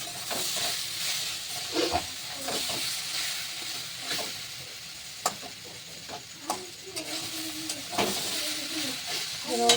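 Vegetables cooking in a pan on a home stove, with a steady soft sizzle and hiss, occasional clinks and stirring knocks, and a voice talking intermittently over it.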